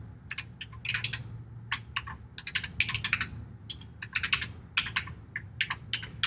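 Keys clatter on a Commodore Plus 4 computer keyboard in quick irregular bursts of clicks, close and crisp, over a steady low electrical hum.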